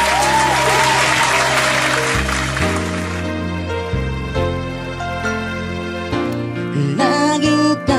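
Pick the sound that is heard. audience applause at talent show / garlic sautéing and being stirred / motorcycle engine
audience applause at talent show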